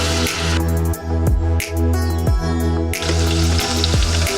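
Chopped onion sautéing in a pan for butter chicken sauce, a steady loud sizzle with a few clinks and stirring knocks, no talk.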